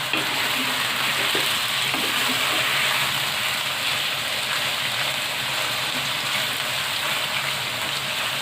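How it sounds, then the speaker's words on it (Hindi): Chicken and onion fry steadily in a pan, giving a continuous dense sizzle and hiss close by with faint stirring scrapes and no voices. "इसके अंदर हम डालेंगे चिकन, साथ ही चिकन फ्राई हो जाएगा।"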